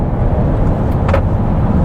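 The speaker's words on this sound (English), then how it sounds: "So mash the throttle. Hear that 6 kick in with the electric assist, of course." From inside the cabin, the V6 engine of a 2021 Chrysler Pacifica Pinnacle hybrid minivan drones steadily and loudly under full-throttle acceleration, along with broad road noise.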